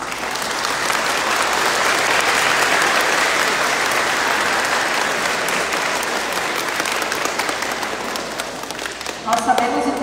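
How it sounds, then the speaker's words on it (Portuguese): Sustained applause from a crowd at a school's closing event for Semana Farroupilha, loud and continuous for the full length, with a few voices at the very end. "E eles merecem uma salva de palmas."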